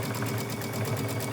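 A sewing machine stitching a quilt seam, a steady fast mechanical whir with rapid rhythmic needle pulsing, close and continuous.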